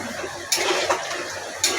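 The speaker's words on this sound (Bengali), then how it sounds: "আলু সেদ্ধ আছে আর ফুলকপি ভাজা আছে, তো এইটাই আমি গামাখা করব" Boiled potato and fried cauliflower being stirred together in a pan, with two sharp scrapes of a utensil against the metal over a low sizzle and no talking.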